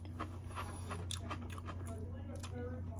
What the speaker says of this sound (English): It's crunchy like Cinnamon Toast Crunch.